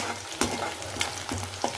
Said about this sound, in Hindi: तो यहाँ पे मैंने गैस बहुत तेज़ कर दिया ताकि प्याज जो है ना अच्छे से ब्राउन हो जाए